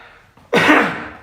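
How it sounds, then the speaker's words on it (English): A single sharp, loud cough into a sleeve bursts out after a brief quiet pause and tails off over about half a second, alone with no talking. "I'm coughing in my sleeve"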